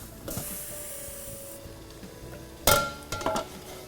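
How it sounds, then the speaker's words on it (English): Glass canning jars of dill pickles lifted out of a boiling water bath with a jar lifter, giving a steady hiss of steam, then a sharp clink of glass near the end followed by a few lighter knocks. "Lift the jars out carefully and place them on a rack to cool."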